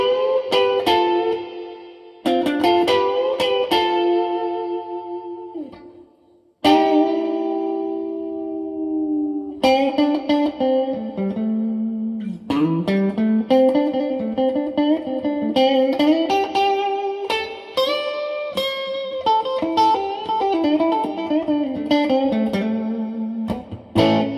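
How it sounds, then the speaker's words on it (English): A Gretsch guitar played through a vintage Marshall amp with room reverb rings out in loud, distorted chords and single-note lines, each stop trailing off in a long reverberant tail, with no talking. "Quite a long trail that is for a room reverb."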